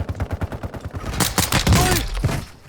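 Rapid bursts of automatic gunfire crack out in the first half, then heavier fusillade, explosions and sweeping whines blend together in a Warzone 2.0 battle, loud and close.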